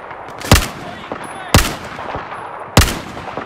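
Three loud, isolated gunshots ring out in Battlefield 4 combat, spaced roughly a second apart, each with a sharp crack and short echoing tail over low background noise.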